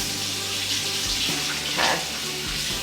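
Water runs steadily from a tap, splashing softly onto a makeup sponge, with faint music behind it.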